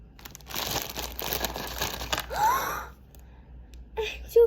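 Someone tears open the packaging of a Labubu blind box, producing a burst of crinkling and tearing plastic, then a brief pause before a few sharp rustles near the end.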